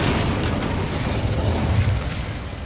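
Incendio fire spell blasting in Hogwarts Legacy, a dense, roaring burst of fiery whoosh and rumble that fills the whole moment loudly and continuously, with no talk over it.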